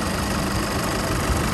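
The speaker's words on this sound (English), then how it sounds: "let's have a look underneath the engine bay and review the motor" A 2017 Holden Colorado LS 4x4 dual-cab ute idles steadily from the engine bay, a close, constant mechanical rumble with no talking.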